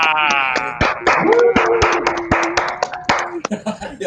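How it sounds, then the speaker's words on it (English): Audience clapping for a comedian at a Monday night comedy show, a handful of distinct claps in an uneven rhythm, fairly close, while someone speaks and a voice sings out over them. "Everybody, clap your hands for Patrick Ryan"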